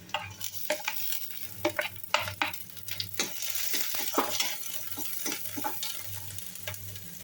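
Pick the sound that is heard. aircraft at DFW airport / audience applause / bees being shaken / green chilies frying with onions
green chilies frying with onions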